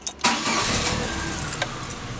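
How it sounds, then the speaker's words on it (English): A car engine cranks and catches, then settles into a steady idle, close and fairly loud, with no talking over it. "the next step is to turn on your car"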